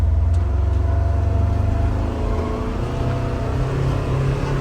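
A 2024 Polaris Xpedition side-by-side UTV engine revs while driving on a trail, a loud, steady, close rumbling drone that holds its level throughout, with no talk.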